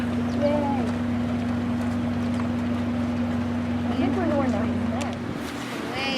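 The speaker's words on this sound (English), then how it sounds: "Here comes our boat." A boat engine drones steadily and loudly throughout as the boat approaches on a Glen Canyon raft trip, with faint voices and wind noise in the background.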